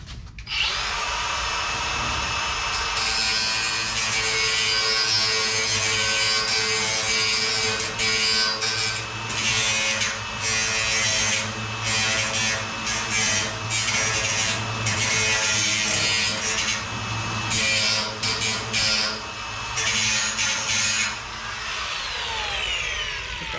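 A power grinder works continuously on a rear window plug on a 1969 Dodge Daytona, producing a loud, close, harsh whir with fluctuating bursts as it bites into the material, without talk.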